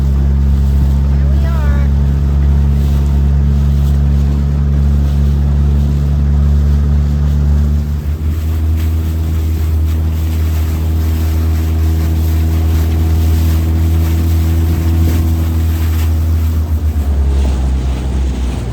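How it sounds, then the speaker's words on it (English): A boat underway on open water off Key Biscayne, with a steady low engine-like drone and wash running through the whole stretch, and a person speaking briefly near the start. "Sailboat sailing."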